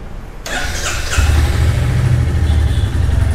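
A Royal Enfield Classic 350 motorcycle engine fires up with a sudden burst, then settles into a deep, steady low exhaust rumble, close and loud.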